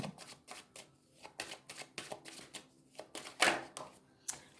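A deck of tarot cards is cut and riffled by hand in a series of quick, close, crisp flutters and taps separated by short pauses, with no talk.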